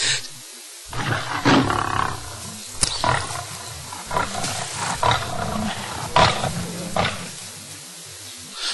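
Lions roar and snarl during a hunt of wild boars, giving several loud, rough bursts at uneven intervals over a noisy outdoor background, with no talking.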